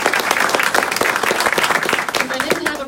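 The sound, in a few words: audience applause at library opening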